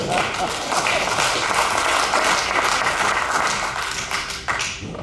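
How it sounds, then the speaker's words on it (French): A crowd applauding steadily at an awards ceremony in Chaudière-Appalaches, dense clapping that stays loud throughout and eases off slightly near the end. "On l'applaudit encore"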